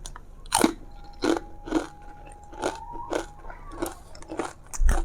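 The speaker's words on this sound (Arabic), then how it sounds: "القرمشه ممتازه" Cheese-flavoured Egyptian snack chips crunch in close, crisp bites, about eight sharp crackling chews spaced through the quiet.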